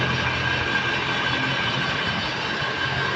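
Mazda engine runs steadily in a machine shop, a moderate, even mechanical hum with broadband noise and no talking throughout.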